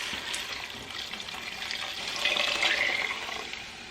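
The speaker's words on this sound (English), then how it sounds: "Gonna add some beef broth." Beef broth pours into a crock pot of hamburger vegetable soup as a continuous splashing, gurgling rush that swells louder toward the end, close and alone.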